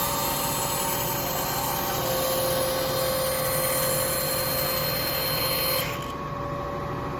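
A bandsaw cutting wood with a steady, dense mechanical whine and hum that fills the whole stretch, close and loud, easing slightly near the end.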